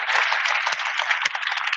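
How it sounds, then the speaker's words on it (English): Lecture audience applauding, a dense, steady wash of many hands clapping together that carries at even loudness throughout, with no voices over it. "Give yourselves a round of applause."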